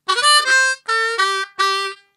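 A harmonica plays a short lick with a bend, one note audibly sagging in pitch before steadying, among four bright, reedy notes played loud and close with no talking.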